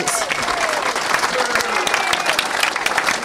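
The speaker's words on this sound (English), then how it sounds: "Let's give one huge round of applause for these ladies." Audience applause at a Recovery Month kickoff event, a loud, dense burst of clapping with crowd noise and faint voices mixed in, sustained evenly for the few seconds.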